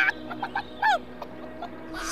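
A cartoon chicken clucks in several short, quick bursts, ending with a longer squawk, with faint background sound between the calls.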